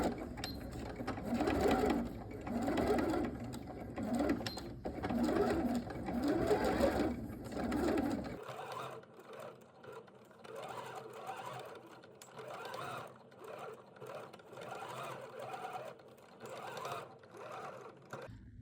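A sewing machine stitches forward and backward over a hole in jeans, a close, rapid mechanical chatter running continuously, louder in the first half and then quieter with small pauses.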